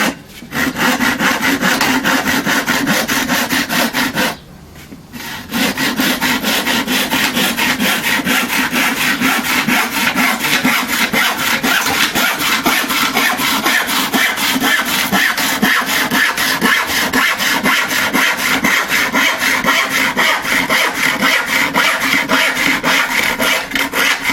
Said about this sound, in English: sometimes it's nice just to get like the old hand saws out